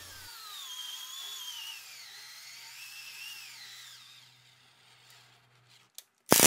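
An electric screwdriver drives screws into a wooden workbench while attaching casters, with a steady whirring whine that rises and falls in pitch for about four seconds, then fades, followed by a couple of sharp clacks.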